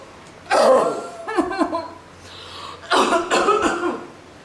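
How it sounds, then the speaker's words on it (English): A girl coughing, two loud harsh bursts separated by a short pause, close up and with no talking. "she was coughing a lot."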